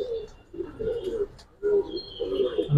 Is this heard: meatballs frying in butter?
no